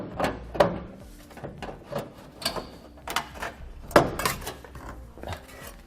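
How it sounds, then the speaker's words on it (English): Tin snips cutting sheet material during a Curt trailer hitch receiver install on a 2017 vehicle, heard as a series of sharp, separate clipping snaps in an irregular rhythm, fairly close, with no talking. "I'm using a pair of 10 snips to cut this."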